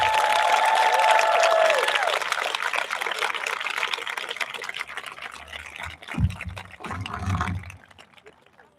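An audience at the Mystic Valley Regional Charter School graduation ceremony applauds Ms. Otis with steady clapping that thins out and fades, followed by a few scattered sounds and voices at the end.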